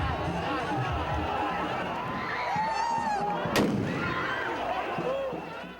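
Fireworks go off during a Movimento Passe Livre street protest in Manaus: one sharp bang stands out amid a busy crowd, shouting and people talking.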